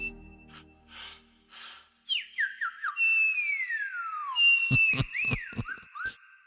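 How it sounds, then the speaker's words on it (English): A cartoonish synthesized whistle voice from a Yamaha Genos 2 keyboard slides and swoops in pitch, with short chirps and drops, playful and clear with no talking. "a little whistle"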